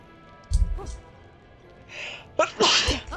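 A sharp, close sneeze bursts out during a Trine 3 let's play session, with people talking before and after it.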